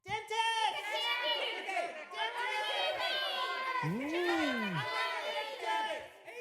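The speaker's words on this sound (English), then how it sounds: "Start cheering now." A group of elementary-age children shouting and cheering together in a loud, lively burst that carries on for several seconds, with excited overlapping voices and yells throughout.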